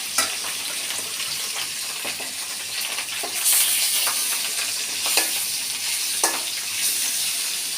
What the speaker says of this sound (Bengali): এভাবে আপনারা মাছটা ভেজে নেবেন